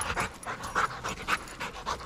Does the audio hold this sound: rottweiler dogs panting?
yes